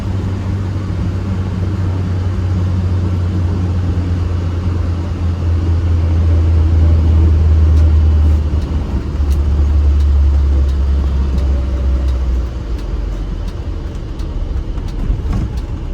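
A 1975 BMW 1602's engine hums steadily from inside the cabin, with a low rumble that rises and eases as the car slows and pulls away.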